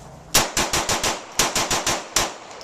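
Rapid shots from a .45 ACP firearm fired at a range, loud and close, in three quick bursts of roughly five, four and one sharp reports, with no talking.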